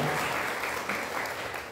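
A congregation at a Christmas Mass in Maranguape claps together, a short, even burst of crowd applause filling the space without a break.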